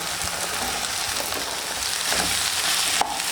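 Chopped ivy gourd fries with egg in a pan for a mutta thoran, giving a dense, continuous crackling sizzle close by with occasional stirring scrapes and a sharp tap near the end.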